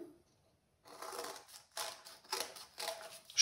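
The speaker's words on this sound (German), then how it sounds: "An der Linie ausschneiden." Scissors cut paper along a line for a children's paper snowflake craft, making three or four close, crisp snips in quick succession after a brief quiet start.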